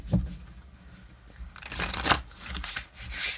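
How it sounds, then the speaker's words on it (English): Crystal reading cards are shuffled by hand at close range, a soft papery riffling and rustling that comes in bursts, with no talking. "let's shuffle our undercurrent cards really quick so we can look at them both at the same time"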